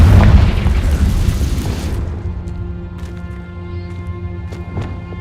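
A Confringo fire spell from the Hogwarts Legacy video game bursts with a loud, deep boom that rumbles and decays over two seconds into a faint ringing tail with scattered sparkling effects.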